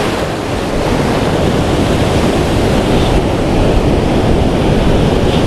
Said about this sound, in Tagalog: Magalaw yung dagat guys.